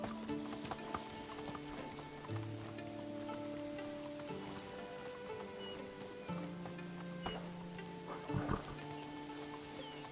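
Horse hooves clip-clopping while riding in the Medieval Dynasty video game, a soft, steady rhythm of hoofbeats under sustained tonal game music and ambient rain-like hiss, fairly quiet overall.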